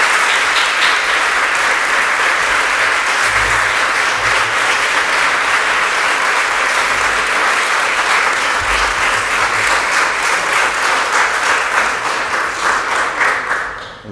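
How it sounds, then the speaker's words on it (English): Loud, sustained applause from a crowd at a city council meeting, a dense continuous roar of clapping close and steady for over ten seconds before tapering off at the end. "those applause are going to violate the noise ordinance"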